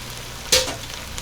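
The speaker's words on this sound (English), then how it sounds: "I'm just going to stir this for about 2 minutes" Short-grain arborio rice is stirred in a hot pan for prawn risotto, producing one quick, close burst of sizzling scrape that fades into a low background hiss.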